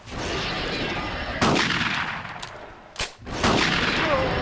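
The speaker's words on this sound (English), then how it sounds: "Shotgun, shotgun, shotgun, shotgun, damn it." Shotgun blasts in the video game Carnivores Genesis: a few loud, sharp booms spaced about a second or more apart, each with a short decaying tail over a steady background hum.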